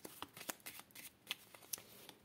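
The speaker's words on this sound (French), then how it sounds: "je commence mon tirage avec Petit Lenormand" Petit Lenormand cards being shuffled by hand in a run of soft, quick riffling flutters, close and quiet, with no voice.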